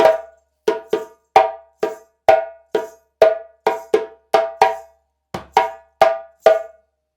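Solo djembe playing the break of the Guinean rhythm Fakoly, about fourteen sharp slaps and ringing tones with one deep bass stroke, loud and close, separated by short silences, no voices.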